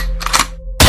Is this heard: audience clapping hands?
no